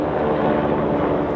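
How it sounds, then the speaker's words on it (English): A helicopter passing over a London hotel room, its steady low rumbling drone filling the whole moment, loud and constant with no break and no talk. "Oh, helicopter's going over."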